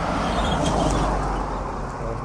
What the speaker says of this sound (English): We'll wait for this next car to come past and across the road.